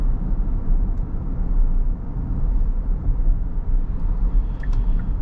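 Constant low rumbling road noise in the cabin of a 2024 Kia Carnival minivan cruising on a test drive, even and unbroken with faint higher ticks near the end, no voices.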